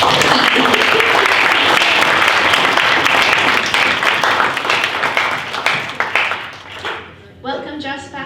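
Audience at the CESP reception program gives a round of applause, dense loud clapping with some voices in the crowd, which thins and tapers off toward the end as a few final claps and talking emerge.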